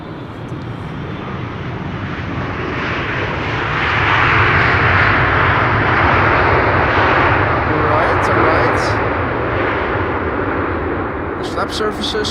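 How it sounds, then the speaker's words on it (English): Turkish Airlines Boeing 777-300 arriving at Amsterdam Schiphol, a loud, steady jet engine roar that swells toward the middle as the wide-body passes close by, then holds and slowly fades. "Turkish Airlines, flight 1951, 777-300 arriving from Istanbul."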